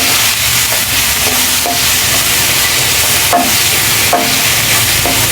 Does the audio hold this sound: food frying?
yes